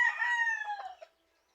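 Backyard chicken giving a single drawn-out crow-like call lasting about a second, close and clear, ending abruptly into silence.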